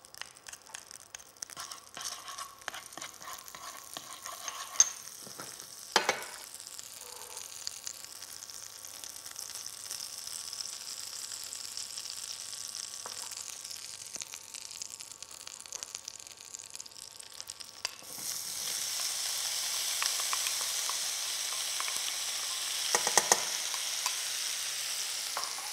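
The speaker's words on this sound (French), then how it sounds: "Quand le beurre mousse, déposez les graines de vanille, le sucre roux et l'ananas." Pineapple, vanilla seeds and brown sugar sizzle gently in foaming butter in a pan, a soft steady crackle that swells louder and brighter toward the end, with an occasional clink and no voices.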